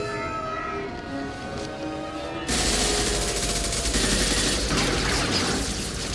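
Video game gunfire from Mass Effect 2 erupts after quiet music, a sudden loud burst of rapid automatic shots and fusillade that keeps rattling to the end.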